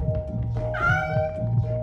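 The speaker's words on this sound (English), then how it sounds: "It's a cat!" A cat meows inside the video game Lethal Company: one drawn-out, rising and falling meow sounds clearly over the game's steady low hum, close and moderately loud.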